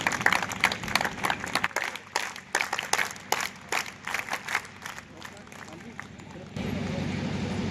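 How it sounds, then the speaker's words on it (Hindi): Students at a government model school event in Haryana clap in scattered, uneven bursts that start and stop irregularly, with background voices. Near the end a steadier, denser wash of applause takes over. "बेटा तालियां नहीं रुकनी चाहिए।"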